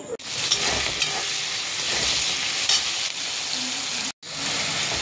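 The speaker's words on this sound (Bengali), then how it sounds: "এখন ভালো করে মশলাটা কষাচ্ছি" Masala with ginger and garlic is sautéed in a pan for Kashmiri aloo dum, a loud, constant frying hiss up close with occasional stirring scrapes and one brief drop-out near the end.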